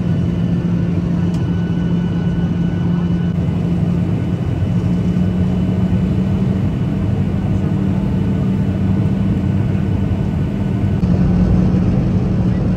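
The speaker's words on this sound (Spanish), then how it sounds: "el aterrizaje." Steady, loud airliner cabin roar as a plane lands on arrival in London, a constant low rumbling drone with a faint hum and no obvious breaks.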